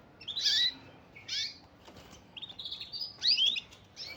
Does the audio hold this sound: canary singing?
yes